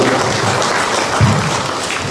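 Audience clapping at a political gathering, a brief burst of steady applause from a crowd lasting a couple of seconds, with no voices.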